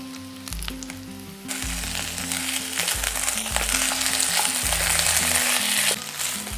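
Two tablespoons of sour yogurt drop into ginger masala frying in a pan for one-pot paneer, and the sizzle jumps louder and stays strong under background music.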